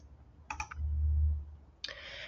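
Two short, sharp mouse clicks on a Save button in bookkeeping software, close and fairly loud, separated by a low hum, with no talking.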